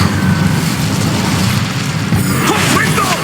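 The Incendio fire spell goes off in Hogwarts Legacy combat, a loud roaring burst of flame and rumbling impact layered over dense battle noise, with a shouted voice calling out the spell.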